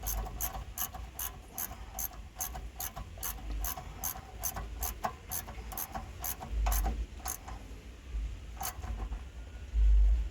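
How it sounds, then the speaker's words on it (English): Ratchet wrench clicking in rapid steady bursts while a bolt with washers and a nylock nut is tightened down during a motorcycle chain tensioner installation, close and clear with brief pauses, no talking. "I'll tighten it down."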